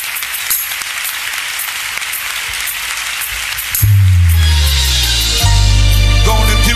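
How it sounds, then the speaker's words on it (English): A church congregation applauds with dense, steady clapping through the space, joined midway by a loud low sustained organ or keyboard chord that swells and continues beneath the crowd noise. "Applaud God in this room,"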